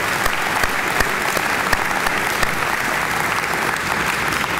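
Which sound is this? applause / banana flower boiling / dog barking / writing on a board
applause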